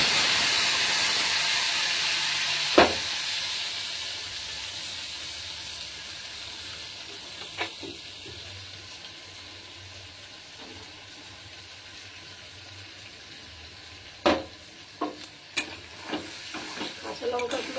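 Mustard paste with green chillies hits hot oil in a pan holding hilsa fish and nigella seeds, giving a loud, steady hiss that gradually fades. Later come several sharp clinks and scrapes from stirring.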